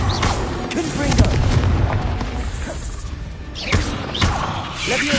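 A Confringo spell blast in a Harry Potter video game, heavy booming thuds and explosive bursts rolling through several seconds amid other game sounds.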